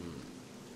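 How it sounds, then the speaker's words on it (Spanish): Rain falls steadily in the video game 7 Days to Die as a soft, constant hiss with a low rumble beneath, faint and brief with no voices. "Estás mojado ya, bueno, es lo que tiene cuando llueve."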